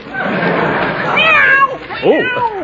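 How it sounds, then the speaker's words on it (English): On an old-time radio comedy, a cat meows and yowls in protest after its tail is stepped on, sounding close and loud over a busy broadcast background. "I didn't mean to step on your tail. Now, Scat Cat, scram, go, outside"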